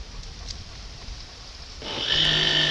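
A coconut-processing machine used to make coconut milk, set up in an outdoor kitchen on Koh Samui, starts its motor partway through, rising from a quiet background into a steady, loud mechanical whine.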